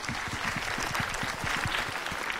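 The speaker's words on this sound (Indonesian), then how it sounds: "Sekali lagi tepuk tangan buat Afika boleh." Studio audience applause on an Indonesian Islamic TV show for children, steady broad clapping throughout with a low voice or music murmuring underneath.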